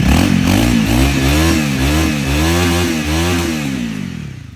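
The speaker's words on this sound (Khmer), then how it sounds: "បងប្អូនអាចស្ដាប់សលេងម៉ាស៊ីនបានណា" A 2017 Honda Rebel 250cc motorcycle engine idling and revving close by, a loud throaty drone with rising and falling pitch that fades slightly at the end.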